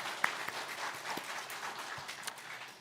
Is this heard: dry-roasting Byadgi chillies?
no